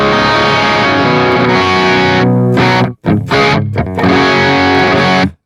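An electric guitar played through a Marshall Silver Jubilee amp model with a 4x12 cab on a Nano Cortex gives loud, distorted sustained chords that cut off briefly a few times before ringing out again.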